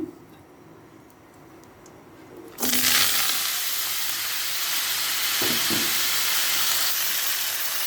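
Vegetables drop into hot oil seasoned with cumin seeds and burst into a loud, steady sizzle after a quiet start, with faint stirring clinks partway through.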